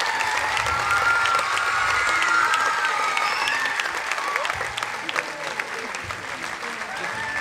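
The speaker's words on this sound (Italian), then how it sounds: "facciamoci un applauso" Sustained applause from a theatre audience at a dance academy's final show, dense and steady clapping with some cheering mixed in, fading slightly toward the end.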